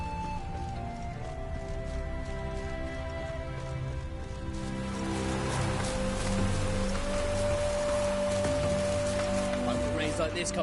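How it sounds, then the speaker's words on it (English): Steady rain hisses and patters in The Witcher 3: Wild Hunt, growing heavier partway through, with soft sustained tones lingering underneath. "Rains like this come sowing time."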